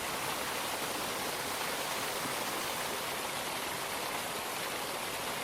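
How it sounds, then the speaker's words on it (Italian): Water of a waterfall at the Silan falls in Veneto pours down from directly underneath, a dense, steady broadband roar and hiss that stays constant and fairly soft throughout. "sono andato dentro, sono sotto alla cascata"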